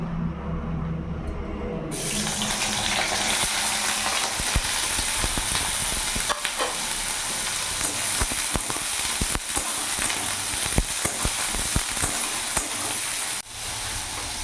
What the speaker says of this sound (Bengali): এবার ওই তেলের মধ্যে আমি বেগুনটাও ভেজে নেব।